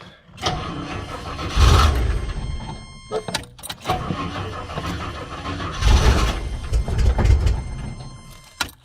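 A long-dead Rolls Royce with SU carburettors cranks and catches, its engine surging in rough, uneven bursts with brief drops in between, close and loud, with a voice heard over it.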